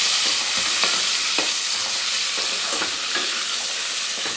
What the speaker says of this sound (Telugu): ఫ్రై చేయండి.